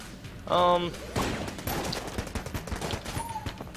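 Machine pistol gunfire in a video game: a quick burst of rapid shots near the start, followed by scattered gunfire and noisy game sounds through the rest.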